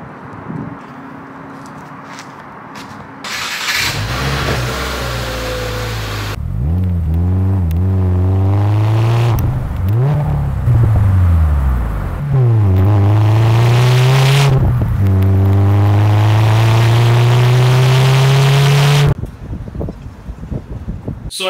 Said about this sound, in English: We'll have to be taking out the WRX. Take it out for a little drive and then we'll park it outside.